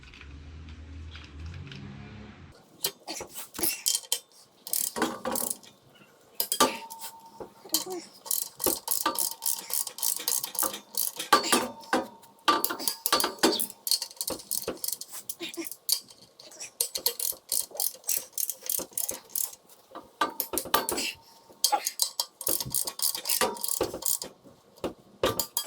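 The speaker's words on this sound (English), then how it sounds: "now I'm just going to take a 12 mil hex socket, and this is going to get torqued down to 45 foot-pounds" Ratchet fitted with a 12 mm hex socket tightening clutch pressure plate bolts on a flywheel, bursts of rapid clicking pawl strokes repeated many times after a brief quiet start, close and crisp.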